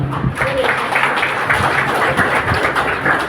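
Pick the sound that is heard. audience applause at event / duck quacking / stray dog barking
audience applause at event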